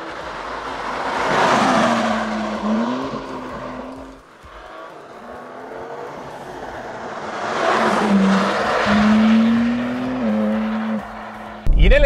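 A 2024 BMW M3 Touring driving on a road, engine droning and rising and falling in pitch with throttle, exhaust crackles when lifting off, someone talking over much of it.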